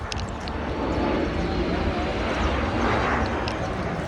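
Broad, rising roar of an airplane passing overhead at a bike market in Kurla, Mumbai, loud and continuous, with a voice speaking over it.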